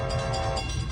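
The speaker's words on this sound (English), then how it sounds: "Here comes Amtrak 527 Capital Corridor train on its way to San Jose Theodore Station." An Amtrak Capital Corridor passenger train, five cars led by a Siemens SC44 Charger locomotive, rumbles loudly past the 105th Avenue crossing in Oakland, its horn sounding a sustained chord.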